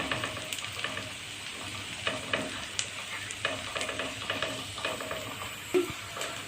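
Onions frying in a pan for an Egyptian-style potato omelette sizzle steadily up close, with repeated scraping stirs and one sharp utensil knock near the end; no voices.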